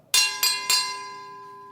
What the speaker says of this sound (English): Jeff, please ring the bell.